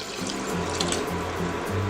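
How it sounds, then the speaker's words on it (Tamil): Water pours steadily from a tap into a pot while cooking jeera rice, a continuous moderately loud splashing stream with a low, pulsing hum beneath it. "2 கப் தண்ணி ஊற்றிக்கலாம்."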